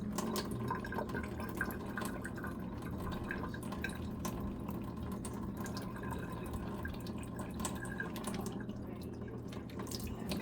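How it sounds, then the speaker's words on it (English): Water draining steadily out of a bag of collard greens being prepared for an Instant Pot, a continuous trickling and dripping that stays fairly even throughout, with no talking. "just let the water drain out"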